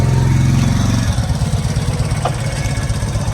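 A Royal Enfield Bullet motorcycle engine runs close by, first a steady higher drone, then dropping after a second to a lower, lumpy idle thump that continues to the end.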